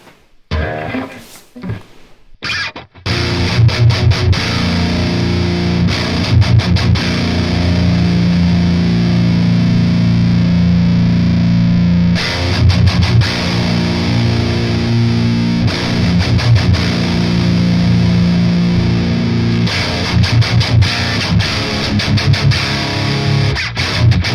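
Heavily distorted metal guitar through a Revv Tilt overdrive pedal with treble tilted up: a few muted chugs, then sustained, loud palm-muted riffing with sharp pauses and restarts throughout.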